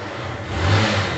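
A fuel-injected 150 motorcycle engine with a misfiring fault, revved briefly, the buzzing engine tone rising and holding close by.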